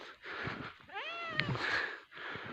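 A cat meows plainly in a snowy village yard, one clear rising-and-falling meow up close. Quieter scuffing and rustle sound around it.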